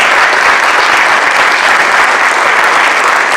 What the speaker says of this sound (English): just a round of applause for Raymond